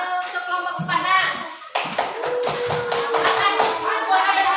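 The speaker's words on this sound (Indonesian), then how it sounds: "Tepuk tangan dulu untuk kelompok 4 Nak" A classroom of students claps for group 4. A burst of quick, dense applause follows a few words from an adult voice and continues close and lively to the end.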